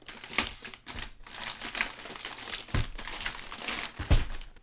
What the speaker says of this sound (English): So take the NAS out of the plastic.